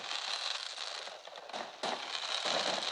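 Fireworks and TNT going off in a video game, a dense crackling fizz of bursts that stays loud throughout, with sharper flare-ups partway through and no voices.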